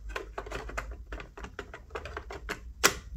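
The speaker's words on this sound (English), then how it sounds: "So just fire a tape in." A cassette tape is pushed into a Bang & Olufsen Beocord 2000 cassette deck, making a quick run of small, close mechanical clicks and ticks that ends in one sharper snap as it seats.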